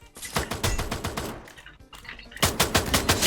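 Rapid video game gunfire crackles in close, loud automatic bursts, pausing briefly midway before a second burst of evenly spaced shots, with no voices.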